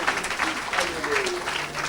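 A church congregation claps and cheers at a worship service, a dense wash of applause with voices calling out over it.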